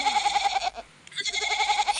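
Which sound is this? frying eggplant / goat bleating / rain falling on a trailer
goat bleating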